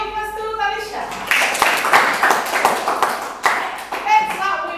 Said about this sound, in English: Give a applause to Talisha.